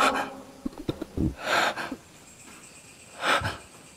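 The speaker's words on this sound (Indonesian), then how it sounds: "Gue dengar suara napas juga di sini." Several audible breaths, a few short huffs followed by two longer, airy exhalations, close and moderately loud in a quiet room.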